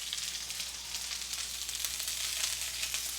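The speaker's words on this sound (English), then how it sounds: "And we'll start off with our onions, and you should hear a nice sizzle." A steady, bright sizzle of onions frying in a hot skillet, close and continuous with no talking.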